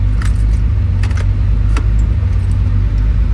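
A turbocharged BMW E36 engine keeps idling after the key is switched off, a loud steady low rumble close by with keys jangling and clinking over it several times.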